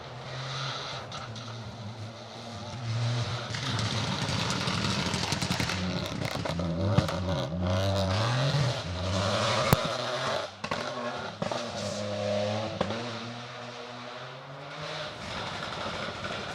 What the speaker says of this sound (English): KG Motorsport car making an awful racket in the woods here.